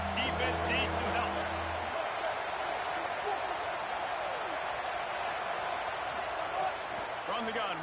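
A broad roar from a packed stadium crowd in a college football video game holds steady throughout, with a commentator talking over it and a few brief thumps near the start.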